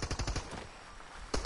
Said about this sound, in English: Shooting at this guy